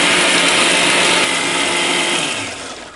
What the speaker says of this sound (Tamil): இந்த மாதிரி கரகரன்னு அரைச்சி எடுத்துக்கோங்க.